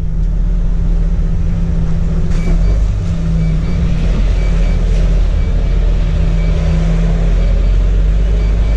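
A car drives along a road in the south of France, filling the cabin with a loud, steady engine and tyre rumble that drones without a break.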